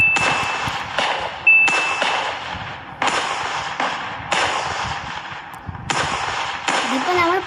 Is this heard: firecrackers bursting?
yes